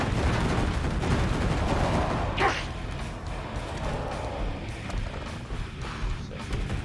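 A single sharp report from an MP5 in Killing Floor 2 cracks out midway through a steady wash of game noise.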